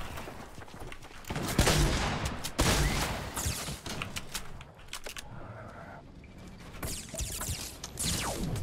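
Gunfire crackles in Fortnite, repeated sharp shots in irregular bursts, some close and loud, others fainter, over a busy game background.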